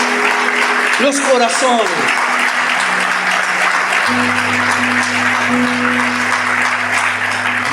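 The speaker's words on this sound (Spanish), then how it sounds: "Dale un fuerte aplauso." A congregation applauds with steady, continuous clapping from a large crowd, fairly loud throughout, while a voice speaks briefly over it and a low sustained tone hums underneath.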